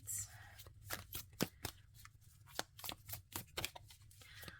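Tarot cards are shuffled in close, crisp bursts, a quick irregular series of riffling snaps and papery flicks against a quiet room.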